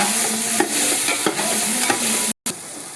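Vegetables for pulao fry loudly in a pan under a close, continuous sizzle, with a spoon scraping and knocking against the metal in a regular rhythm and a short dropout near the end.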